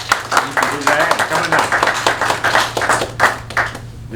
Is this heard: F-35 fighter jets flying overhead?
no